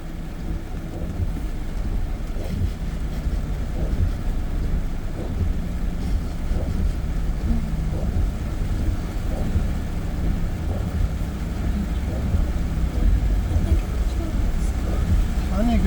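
A car pushes through a deeply flooded street, a continuous low rumble of engine and churning water with steady splashing, heard from inside the vehicle while people talk over it.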